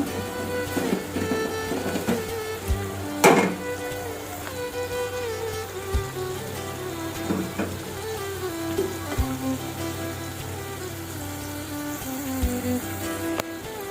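Tomatoes and green chilies fry in a pan for a Chittagong-style sea fish curry, a soft, steady crackling sizzle under a continuous musical background with occasional sharper pops.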